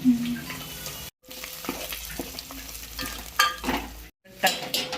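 Eggs fry in a pan while being stirred, with close scraping strokes and a light sizzle, broken by two brief silent gaps.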